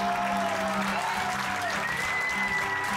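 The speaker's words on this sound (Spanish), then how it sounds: "Primero quiero pedir un aplauso para Vale y Mari Carmen, que nos están acompañando en los coros esta noche." A concert audience applauds the backing singers. The clapping blends with sustained musical tones and crowd noise, at a steady moderate level.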